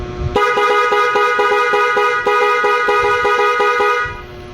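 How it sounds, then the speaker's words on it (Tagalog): A loud aftermarket horn on a Honda Beat scooter blares continuously for nearly four seconds, a harsh, rich buzzing tone with a rhythmic pulse, very close. "Pag inilagay sa baba, yun po yung loud horn."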